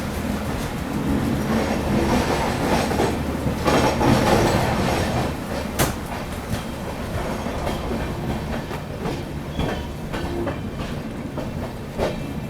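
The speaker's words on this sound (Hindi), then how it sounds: "चलो अभी अपनी ट्रेन निकल चुकी है एलटीटी रेलवे स्टेशन से" An LTT Mumbai–Banaras Superfast Express rolls out of the station during monsoon, a steady, close rumble of wheels and carriages with clickety-clack beats and occasional squeals, no voices.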